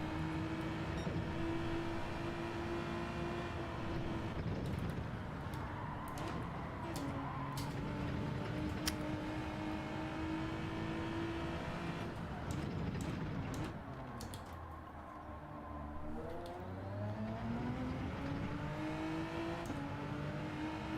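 A race car engine in Gran Turismo 7 drones and whines steadily through gear changes, rising and falling in pitch as it brakes and accelerates around the track, continuous and moderately loud with no talk.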